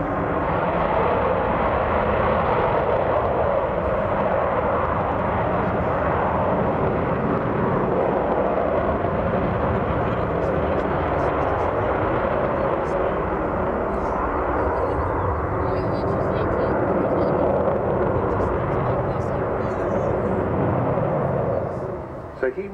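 Avro Vulcan B2 XH558 jet bomber at the Royal International Air Tattoo, a loud continuous roar of jet engines filling the air throughout, steady and broad with slight swells, with the crowd faintly audible beneath.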